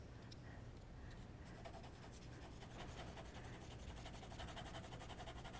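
Steady, scratchy rubbing of an H pencil on paper, continuous and close, with soft quick strokes and no talking.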